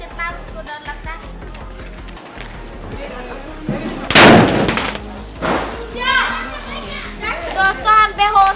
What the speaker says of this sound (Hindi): देखिए ये पटाखा अभी फोड़ने वाले हैं हम।